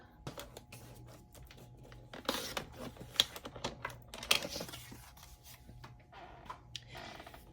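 Cardstock being cut to length with a paper trimmer, several faint close scraping and clicking strokes in a quiet room.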